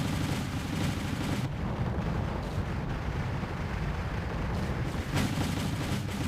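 T-80U tanks open fire in the war game Wargame: European Escalation, a loud and continuous wash of booming cannon shots and explosions with heavy, overlapping rumbles and no clear pauses.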